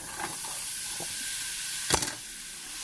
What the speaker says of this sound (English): Now, once I've prepped all these ingredients, we're going to brown those sausage medallions.